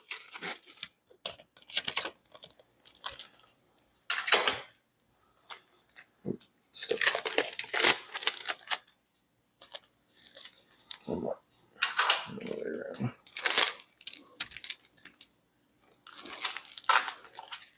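Adhesive tape is pulled and wrapped around an arm, heard as bursts of ripping and crinkling that come and go with short silent gaps, close and fairly loud.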